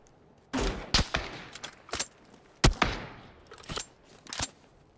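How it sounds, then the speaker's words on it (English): Bursts of gunfire and a blue zone grenade in the PUBG video game on a winter Erangel map. Several sharp, loud reports come in irregular clusters across the clip, with no talk over them. "I'm gonna see if I can shoot him with my blue zone grenade."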